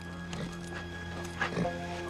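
A horse's hooves clop a few times close by in an old-West town setting, brief uneven strikes over a steady low hum, with a faint snort or whinny mixed in.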